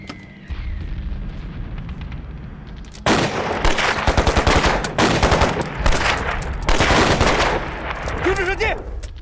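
Battle scene in a wartime drama with heavy weapons: after a quiet rumbling lead-in, loud sustained machine-gun fire erupts, dense rattling bursts mixed with booms, while voices shout over the din near the end.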